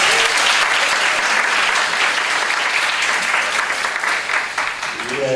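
An audience at a Korean worldview lecture breaks into dense, sustained applause that is loud and close, steady throughout before tapering slightly as a voice begins at the end.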